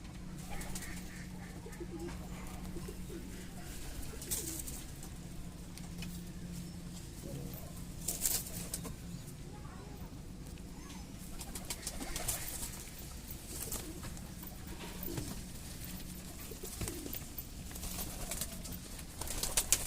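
Kalshera Giribaz pigeons coo steadily in low, repeated rolls, fairly faint against a busy background of rustling and occasional clatter, with no clear talk.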